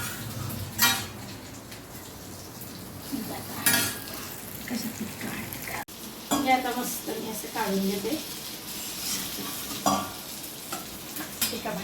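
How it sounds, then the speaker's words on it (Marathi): Bitter gourd (karela) sizzles and fries in a pan with garlic, with stirring and scraping of a utensil against the pan, pot and cutlery clinks, and someone talking intermittently over the cooking. "छान कारलं फ्राय झाले."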